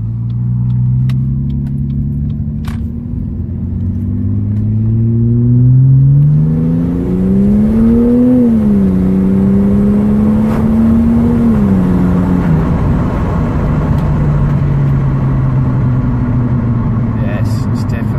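Turbocharged Ford BA XT Falcon engine idling with a steady rumble, then revving up and down as throttle is applied, pitch rising and falling before settling; close and loud.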